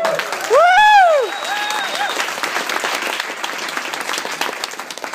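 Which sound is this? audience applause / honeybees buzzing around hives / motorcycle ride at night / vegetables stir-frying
audience applause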